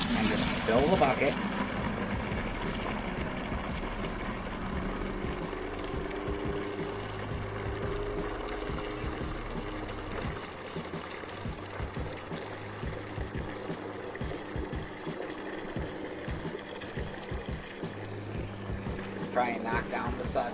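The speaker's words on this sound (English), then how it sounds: "Let me go turn on my hose." Water from a garden hose runs steadily into a bucket of soapy water, a continuous rushing, pouring wash lasting throughout with a faint hum beneath and scattered soft knocks.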